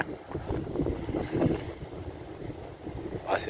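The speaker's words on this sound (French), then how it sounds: "il y a du vent" Strong seaside wind buffets the microphone in steady gusty rumbles on the coast near Tarragona, Spain, with a brief brighter whoosh near the end.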